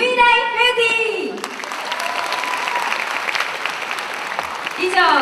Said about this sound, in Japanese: 今一度大きな拍手をお願いいたします